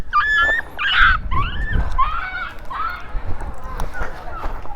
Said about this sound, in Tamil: ஐயோ இவ்வளோ நாய்ங்க வந்துச்சு